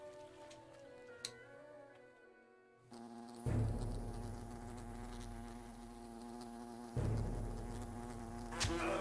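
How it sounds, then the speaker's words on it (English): Buzzing wasps attacking in the video game Fable, a steady insect drone that swells louder midway and keeps humming under game ambience with no talk. "we see that these wasps are attacking"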